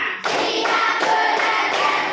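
A class of students claps together in rhythm, sharp group claps arriving as a short series of evenly spaced bursts, loud and close, filling the room.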